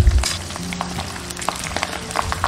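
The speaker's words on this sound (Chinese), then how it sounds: "一定要小火给它慢炸" Onion, scallion, cilantro, star anise, bay leaf, cinnamon and Sichuan peppercorns slow-frying on low heat in plenty of cooking oil for chili oil, a steady soft sizzle with light crackles, close by and without speech.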